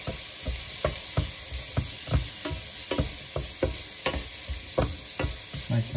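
Bell pepper and onion frying together in a pan, a soft sizzle punctuated by a rhythmic series of sharp stirring clacks, close up and fairly quiet, with no voices.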